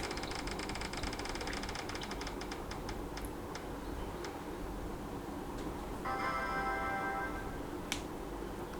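A prize-wheel spinner clicks rapidly as it turns to pick a book, a dense run of ticks that thins out and slows, with a brief buzzing rattle near the end as it settles.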